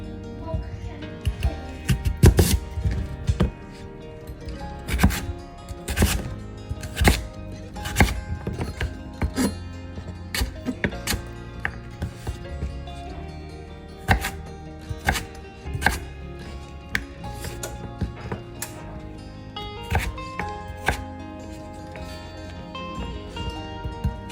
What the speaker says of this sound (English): After your sweet potatoes are cut into their french fry shapes